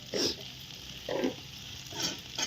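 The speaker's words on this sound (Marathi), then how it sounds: "छान असं टाकले सगळं आता फोडणीला गेलं" Vegetable curry frying in a spiced tempering, with sizzling in short bursts every second or so, as if the pot is stirred, and quiet frying between the bursts.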